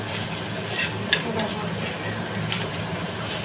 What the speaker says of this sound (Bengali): ওই মাছের ডিমগুলো আমি একটু তাওয়ার মধ্যে ভেজে নিচ্ছি